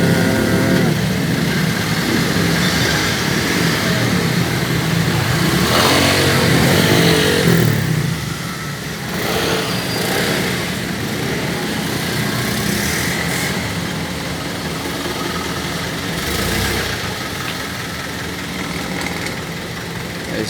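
Continuous rumble of motorcycle and car engines idling and revving in heavy, congested traffic in Gapan, loud and close, with occasional surges as vehicles pass.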